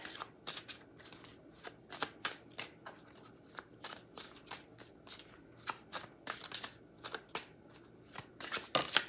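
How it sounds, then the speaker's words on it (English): Tarot cards being shuffled in quick repeated bursts, crisp riffling and snapping close to the listener, with no talking. "I'm going to shuffle and grab our 3 cards."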